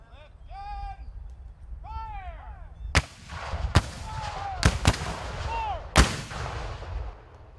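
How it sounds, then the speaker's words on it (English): Several heavy Civil War cannon blasts, fired with half charges and no projectiles, boom one after another at irregular intervals, close and loud, with birds calling in the quiet gaps between shots. "experience the physical power of these cannons, even though we're only using half charges and no projectiles"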